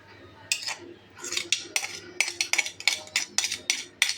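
A metal spoon clinks and scrapes against a pot while paste is stirred into aloo biryani rice, a steady run of sharp clattering strokes close up, with no talking.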